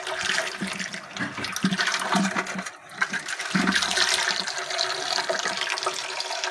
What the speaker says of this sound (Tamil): வாட்டர் ஃபில் பண்ணிக்கிட்டு இருக்கேன்.